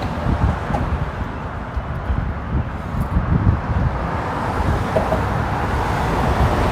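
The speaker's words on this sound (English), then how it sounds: "And there's a lot of traffic here." Steady road traffic rumbles along the Williamsburg Bridge approach, a continuous broadband wash of passing cars with gusty wind noise over the microphone, loud and close throughout.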